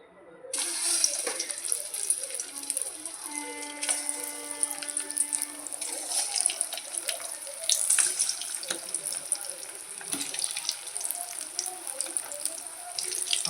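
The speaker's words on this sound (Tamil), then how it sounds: "இப்போ நம்ம ஒவ்வொரு உருண்டைகளாக போட்டு பொரித்து எடுத்துடலாம்." Mutton kola urundai balls deep fry in hot oil, a steady close bubbling sizzle with occasional crackles that runs continuously throughout, with no talking.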